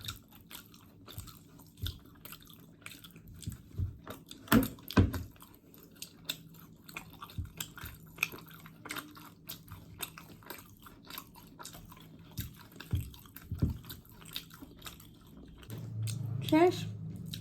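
Mother and daughter eat luchi, puffy fried flatbread, during an eating challenge: close, intermittent chewing and biting noises with occasional soft crunches and some background voices.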